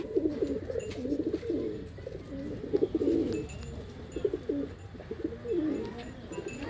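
A prized pigeon, one of a mated pair, coos in low repeated rolling phrases at close range, with faint voices in the background.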